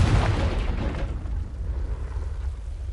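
A Confringo spell blast in a Harry Potter video game lands as a single deep, loud boom that rumbles and fades over a few seconds.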